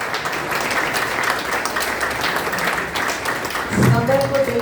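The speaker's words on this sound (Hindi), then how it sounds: "एक बार जोरदार ताली बजाकर" Audience at an Arya Samaj gathering claps in thanks for the Acharya, a dense, steady patter of many hands at moderate distance, with a voice speaking briefly near the end.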